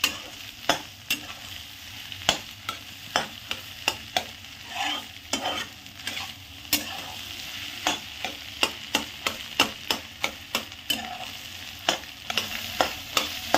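Egg bhurji cooking in a pan with coriander leaves, a soft sizzle under frequent sharp scrapes and taps of a spatula stirring, repeated irregularly throughout.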